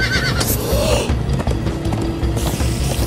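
A horse in Minecraft Story Mode lets out a high whinny over a dense, loud layer of galloping hoofbeats, rumbling game sound effects and music, all close and busy throughout.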